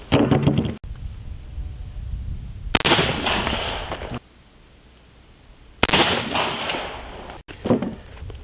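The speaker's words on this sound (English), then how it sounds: "Let's shoot it a couple more times." .44 Magnum rounds fired at body armor on a range: two loud, sharp gunshot blasts a few seconds apart, each followed by a long ringing echo and decay, with no speech between them.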